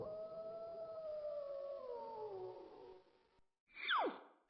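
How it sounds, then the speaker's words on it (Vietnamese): A wolf howls in one long, sustained, gliding note that slowly falls in pitch, followed after a short pause by a brief sharp descending yelp, fairly faint and with no talk over it. "Nói xong, Bạch Lang Vương khẽ gầm lên một tiếng."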